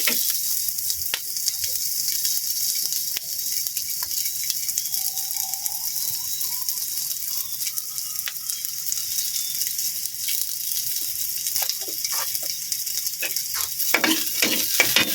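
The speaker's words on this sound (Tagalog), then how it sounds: "Brownin natin yun para bumango siya lalo." Steady, close oil sizzle from browning aromatics in a pan for misua noodle soup with sardines. A loud hiss continues throughout, with a few utensil scrapes and clinks toward the end.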